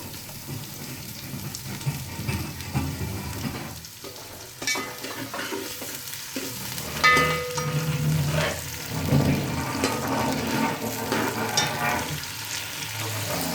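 Onions go into half a cup of hot oil for a potato tahari, giving a steady close sizzle broken by scraping stirs and occasional louder spits, with no talking.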